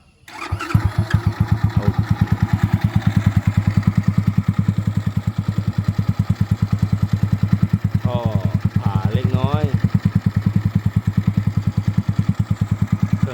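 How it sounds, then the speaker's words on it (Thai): A fully rebuilt Chaly 110cc motorcycle starts up and settles into a close, steady idle, its exhaust beating in a fast, even thump throughout. Someone speaks briefly over the running engine. "มาฟังเสียงท่อนะครับ ผมสตาร์ทนะครับ"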